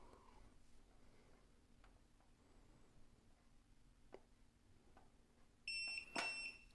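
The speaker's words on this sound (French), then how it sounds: "Voilà, donc là il a fait 2 bips" A Lefant M320 robot vacuum gives two short electronic beeps near the end, loud and close, after a stretch of quiet room tone with faint clicks.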